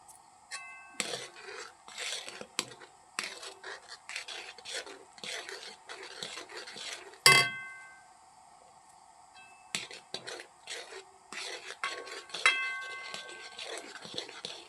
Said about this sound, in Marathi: गॅस बारीक करू आणि पीठ थोडं थोडं टाकून आपण असं ह्याला हटवून घेऊ.